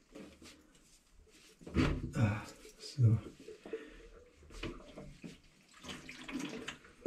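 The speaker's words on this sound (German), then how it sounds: "So, jetzt kommt klares Wasser." Clear water runs from a tap into a sink or container at home during a January power outage, splashing in uneven bursts while someone talks over it.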